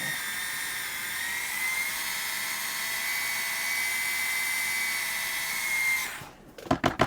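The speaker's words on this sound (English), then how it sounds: "then I drill straight through" A high-pitched electric drill whines steadily for several seconds drilling through a plastic Mini 4WD rear stay, then stops, followed by a few knocking clicks.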